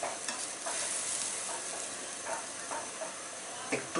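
Egg paratha fries in a pan with a steady, close sizzle and hiss, broken by a few soft stirring or scraping touches, with no talking.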